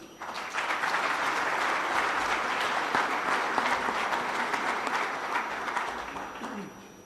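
A forum audience at Prespa applauds in a sustained, dense burst of clapping lasting several seconds, swelling quickly and then tapering off near the end.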